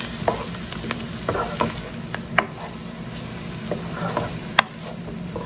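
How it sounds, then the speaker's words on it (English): Garlic frying in butter with onions sizzles steadily in a pan, close and continuous, while a utensil stirs through it with scattered scraping clicks. "So now that I've added the garlic, I'm just going to stir that in."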